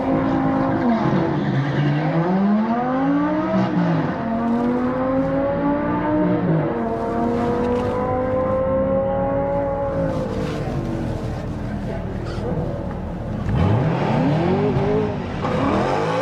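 A Camaro ZL1 1LE V8 drag racing alongside other cars roars loudly as its revs climb and fall in long sweeping pitches, with screeching tire squeal in short bursts as it struggles for traction.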